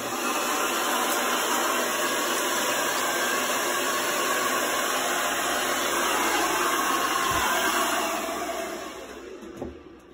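A hair dryer blows hair dry with a loud, steady whooshing roar that holds evenly, then dies away near the end when it is switched off.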